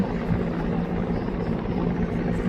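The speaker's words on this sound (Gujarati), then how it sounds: "Mi-17 હેલિકોપ્ટર અત્યારે તમે જોઈ રહ્યા છો સ્થિર થઈને" Steady thudding rotor drone of an Indian Air Force Mi-17 helicopter hovering nearby, loud and continuous with a low pulsing beat throughout.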